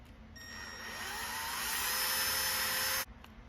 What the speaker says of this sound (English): I'm just gonna use drill bit, and I'm gonna drill through that rivet